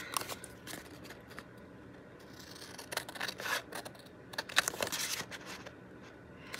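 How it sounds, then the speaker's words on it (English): Quiet, crisp scissor snips trimming paper corners come in small irregular bursts, close by, with soft paper rustling between cuts. "I just kind of snipped these corners"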